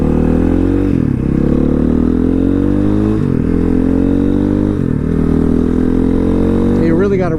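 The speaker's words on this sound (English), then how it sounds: "You really got to run through the gears quite a bit because the transmission's such a close ratio transmission" A KTM 500 dirt motorcycle runs hard through its close-ratio gears, the loud, close engine buzz climbing in pitch and briefly dropping at each of several quick shifts, with a voice talking over the ride.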